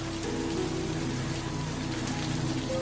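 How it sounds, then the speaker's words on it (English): Rain falls in a steady, dense patter on branches and ground, a continuous close hiss of countless drops with a faint low hum beneath. "Soon, it's joined by thousands of other raindrops. Listen as they patter against the branches"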